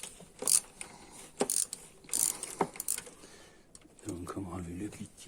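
A ratchet wrench loosens a car spark plug, several short bursts of clicking pawl in quick strokes, close and moderately loud, followed by a brief low voice near the end.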